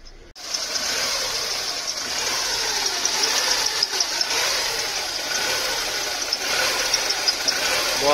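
VW Fox engine with a faulty throttle body revving under acceleration, a continuous close engine drone holding steady with slight rises and dips, no talk over it.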